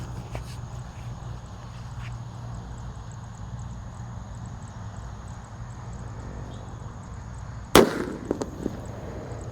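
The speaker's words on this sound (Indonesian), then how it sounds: "ada mercon bledek warna biru yang kita nyalakan di dalam tanah" A blue bledek firecracker set off inside the ground bursts once with a loud, sharp bang after a long stretch of quiet outdoor hum, followed by a few brief crackling pops as it fades.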